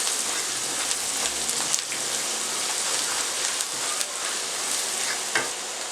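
Chillies and spices frying in a pan on the stove, a dense continuous crackling sizzle with scattered louder pops, steady throughout and without talk.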